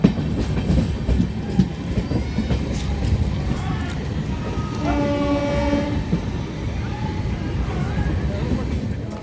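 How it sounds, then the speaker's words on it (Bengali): An Amrit Bharat train pulls into a crowded Dankuni station with rumbling wheels and rail clatter. A horn blares in the middle, and people talk nearby. "এই হচ্ছে জাস্ট ডানকুনি স্টেশন। ট্রেন ঢুকলো"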